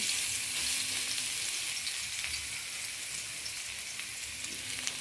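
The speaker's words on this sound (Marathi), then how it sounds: "मी गाजर तुपामध्ये टाकून घ्यायचे" Grated carrots hit hot ghee for gajar halwa, giving a bright, continuous sizzle that stays loud and even throughout, with faint stirring underneath and no talking.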